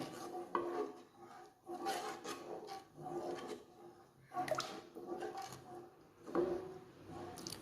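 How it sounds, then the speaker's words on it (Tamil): Idli rice batter thinned with water is stirred in a pan over medium heat, producing rhythmic, soft scraping and rubbing strokes, close and fairly quiet, with brief pauses between sweeps. "மீடியம் தீயில் வச்சு கிண்டலாம்."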